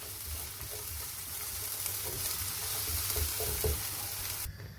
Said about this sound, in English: while we have the garlic and onion sizzling